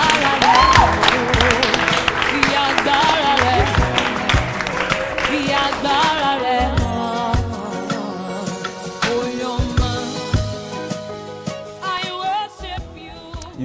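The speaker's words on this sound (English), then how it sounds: "Everyone clap for Jesus." A crowd claps and applauds loudly at first, the clapping gradually thinning out into scattered claps with music-like tones underneath.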